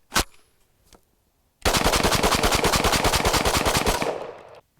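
A Kel-Tec RDB rifle fires steel-case Tula ammunition in one rapid, sustained string of roughly two dozen sharp, loud, evenly spaced shots, preceded by a single isolated shot and a faint click.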